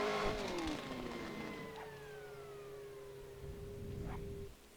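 A Jordan 191 Formula One race car in a racing video game pulls away after a pit stop tire change, engine revving up and then droning off with falling pitch as it leaves, fading toward the end.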